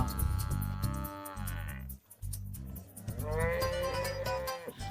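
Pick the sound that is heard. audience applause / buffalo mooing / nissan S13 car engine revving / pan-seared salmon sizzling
buffalo mooing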